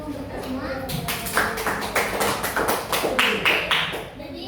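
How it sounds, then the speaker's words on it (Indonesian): A classroom group applauds together, a steady run of sharp hand claps lasting several seconds at moderate loudness, with voices mixed in underneath. "Beri aplaus untuk kita semua"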